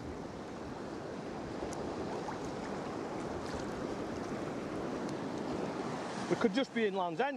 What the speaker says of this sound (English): now the swell's building again, slowly but surely.